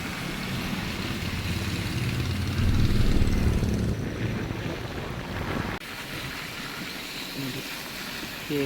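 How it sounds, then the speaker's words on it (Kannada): Rushing river water near Badrinath in the Himalayas after heavy rain: a steady, dense roar that fills the whole clip, swelling briefly near the middle and then settling to a slightly softer, constant rush. "ಹೇಗೆ ಹರಿತಾ ಇದೆ ನೀರು."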